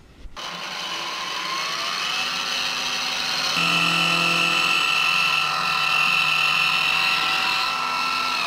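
A power tool grinds a flat spot into the metal shaft of an eFoil jet drive, a steady high whine running continuously and close, shifting pitch slightly partway through as the load changes, with no talking.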